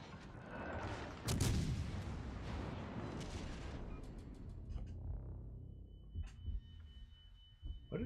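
Shellfire strikes a warship in World of Warships Legends: a heavy, booming impact is followed by a rumbling roar and scattered cracks, then a few quieter thumps as it settles.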